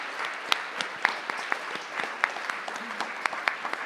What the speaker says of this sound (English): I would like to give a round of applause to all of our speakers today.